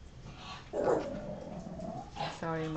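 A pet dog whimpers and yips in a room, high whiny cries rising and falling, fairly close, mixed with a person talking.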